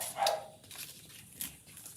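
A dog gives a couple of short barks, the first louder near the start and a second fainter one midway, against a quiet indoor background.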